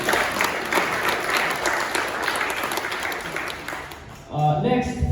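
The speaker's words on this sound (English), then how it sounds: "Big round of applause for the team at CPAP Buddy." An audience at a startup pitch competition breaks into steady applause, which swells briefly near the end as a voice begins to speak.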